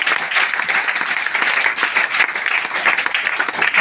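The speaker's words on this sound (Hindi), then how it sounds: "जोरदार ताली डिएक्शन के लिए" A large audience bursts into loud, sustained applause at a DXN company gathering, dense clapping filling the whole stretch at an even, close level with no break.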